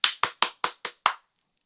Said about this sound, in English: Why so many claps?